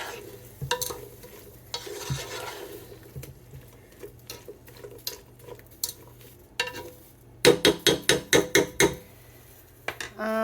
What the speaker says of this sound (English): And we are going to stir.